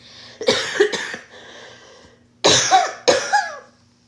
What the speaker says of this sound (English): Still can't cough without making funny noises.